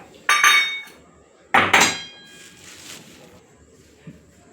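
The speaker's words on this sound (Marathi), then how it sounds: "चला आपण आता हा गूळ बारीक करून घेऊया, म्हणजे ठेचून घेऊया, आणि हे वेलची सुद्धा ठेचून घेऊया." Jaggery and cardamom are pounded to crush them, two loud close strikes with a metallic ring about a second apart, followed by a faint tap.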